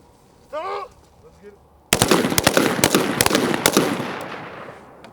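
M4 rifles firing during reflexive fire training, a shouted voice first, then a dense burst of overlapping sharp gunshots from several shooters, loud and rapid, fading slightly after a few seconds.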